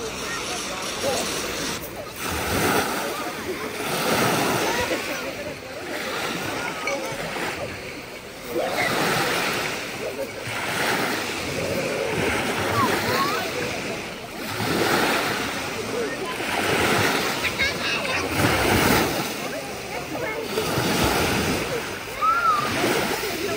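Sea waves break and wash back over a pebble beach at Foros in Crimea, a loud rolling surge that swells and recedes every few seconds, with wind buffeting the microphone and no speech.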